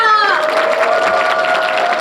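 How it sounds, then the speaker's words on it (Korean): Concert audience applauds and cheers after the finale of a Korean live show, a steady wash of clapping and crowd noise with a sustained tone running underneath. "여러분들 다시 한 번 더 뜨거운 박수 보내주세요"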